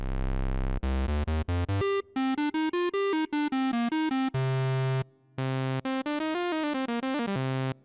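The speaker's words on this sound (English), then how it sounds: "an analog oscillator from the Odyssey would sound like this." Analog oscillator tones from a Behringer Odyssey synthesizer play a stepping sequence of bright, buzzy notes, starting with a low sustained tone, then quick staccato pitches with short gaps, loud and clean with no voices.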